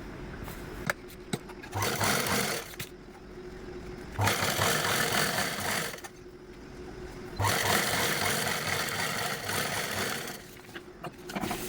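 A sewing machine stitches along a folded fabric strip in steady, loud mechanical runs of several seconds each, separated by short pauses with faint handling noise, close up and with no voices.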